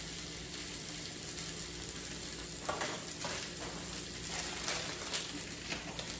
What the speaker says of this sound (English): Meanwhile, over here, I've got my spinach going.